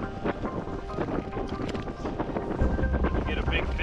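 Wind blows across open ice at an ice fishing competition, a steady rushing buffet on the microphone with faint rumbling underneath and a few soft voices.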